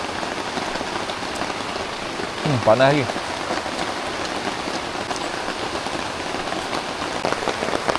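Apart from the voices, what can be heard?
heavy rain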